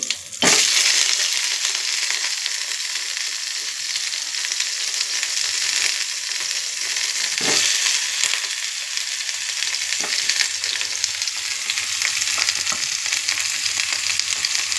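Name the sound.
eggplant frying in oil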